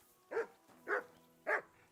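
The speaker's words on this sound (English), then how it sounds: "Henry, whistle at that mutt of yours to stop barking." A dog barks three times at a steady, unhurried pace in Kingdom Come Deliverance 2, each bark clear and moderately close against a quiet background.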